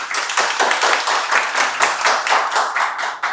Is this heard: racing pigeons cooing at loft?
no